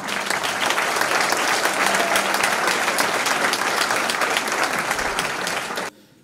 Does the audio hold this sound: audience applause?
yes